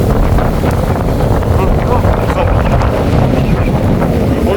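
Strong wind roars steadily into the microphone out at sea, a constant loud buffeting rush with faint water noise beneath it.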